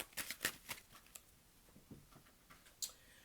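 Tarot cards are shuffled by hand in a series of soft, quick riffles and taps, faint and close, in irregular bursts.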